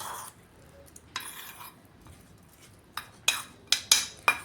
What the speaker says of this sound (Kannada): ಚಮಚೆ ತೊಗೊಂಡು ಚಲೋ ಹೊತ್ನಂಗೆ ಮಿಕ್ಸ್ ಮಾಡಿರಿ